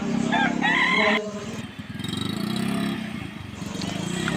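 Kukuak balenggek roosters at a tiered-crowing contest near Danau Bawah let out a loud, drawn-out crow at the start, followed by people talking nearby and a faint engine-like hum.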